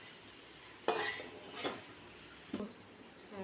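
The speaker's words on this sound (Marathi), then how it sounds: "हे बघा भाजलाय चालू." Whole spices are roasted in a pan: a faint dry background with three scraping, clinking stirs of a metal spoon against the pan, spaced about a second apart.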